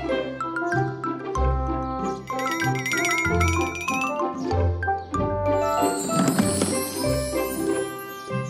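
Light bells jingle and tinkle over a bouncy musical backing in a children's cartoon, with bright chiming notes repeating throughout.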